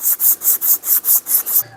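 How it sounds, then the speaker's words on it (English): Hand sanding the wooden handle of a ball peen hammer, eight steady back-and-forth rasping strokes in an even rhythm, close and fairly loud with no talking. "I switched over to hand sanding this so that I can have a little bit more control"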